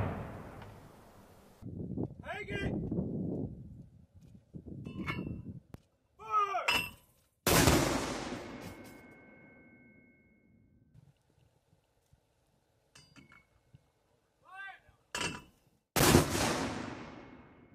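An artillery gun firing during a military squad competition: two sharp, loud blasts several seconds apart, each with a ringing tail, between brief bursts of radio-like voices.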